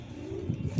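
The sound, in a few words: pigeon cooing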